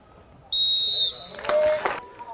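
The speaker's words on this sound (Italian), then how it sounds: "ha dato il fischio di inizio del Sersale" At kick-off of an amateur football match between Sersale and Trebisacce, a referee's whistle sounds once as a single shrill blast, followed by a burst of crowd noise and faint commentary underneath.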